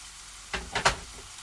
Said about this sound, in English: Okay, so we're going to let this chicken cook for about 4 to 5 minutes, it says.